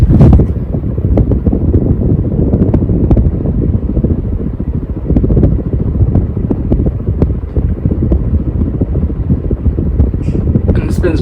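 A Hampton Bay Southwind V 52-inch ceiling fan runs on high speed, producing a loud, constant low whooshing rumble of moving air with fluttering buffets on the microphone and a little bearing noise.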